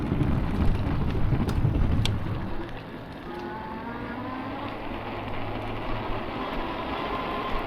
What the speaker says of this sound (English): Unfortunately, this bridge makes a lot of noise.